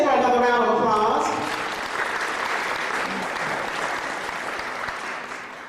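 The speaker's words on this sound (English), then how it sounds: "Let's give her another round of applause." Audience applause fills a conference hall, starting strong and steady, then tapering slightly while continuing as a dense, sustained clatter of many hands clapping.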